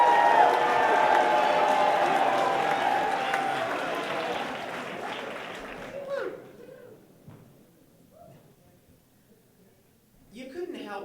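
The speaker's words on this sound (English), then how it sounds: "Applaud his movement." Audience at a Moth StorySLAM in Brooklyn applauds and cheers, loud at first and then fading, with a voice speaking over the crowd near the end.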